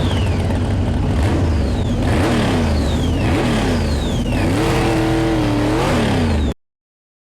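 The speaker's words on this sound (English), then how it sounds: "That sounds a lot like the original Dodge Charger sound files" A Dodge Charger engine in a Fast & Furious racing video game revs repeatedly, rising and falling pitch sweeps over a steady low rumble, loud and continuous for about six seconds before cutting off to silence.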